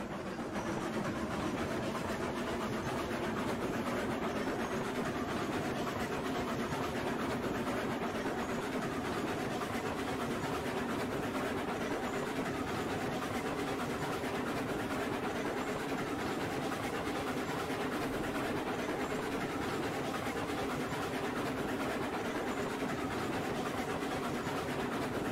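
A short oil freight train runs in the railroad game Railroads Online, giving a steady rumble and rolling rail noise that holds for the whole stretch without breaks and stays fairly quiet and constant.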